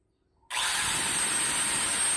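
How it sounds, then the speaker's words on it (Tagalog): An electric grinder is switched on for a test after being plugged in: a brief near-silence gives way to an abrupt loud start, then a steady high whirring motor runs on evenly and close. "Ngayon, subukan naman kung gumagana siya. Ayun, sinasaksak na ni Foreman"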